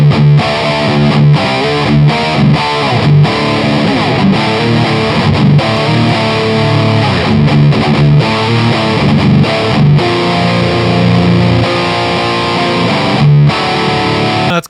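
An electric guitar roars through a Crate amp with heavy distortion dialed toward a chainsaw tone, playing loud, continuous, gritty riffs with brief choppy breaks and no talking.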